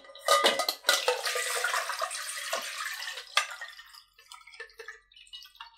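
Water and pomegranate arils pour through a metal strainer into a bowl, a splashing, dripping rush for a few seconds, then scattered small drips and clinks as it tails off.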